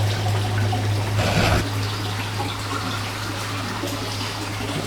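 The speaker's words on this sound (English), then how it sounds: "There we go, it's got the tank filling up." Water runs steadily into a fish fry tank being refilled after cleaning beside a drum filter, a continuous close trickling flow over a low, constant pump hum.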